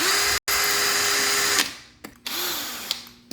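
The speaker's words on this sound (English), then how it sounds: "Now we're going to screw our shade clips into the wall." A power drill driving screws into a wood wall during a window shade installation, a steady high whine with a brief stop, then the motor winding down, a couple of clicks, and a second shorter burst.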